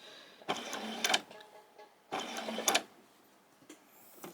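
A sewing machine stitches fabric for a hairband in two short whirring runs, each under a second, separated by a pause. The sound is close and moderately loud, with no talking.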